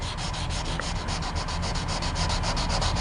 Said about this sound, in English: Try not to go too heavy on the sandpaper, just medium pressure. You're just trying to get the excess Bondo away and make it smooth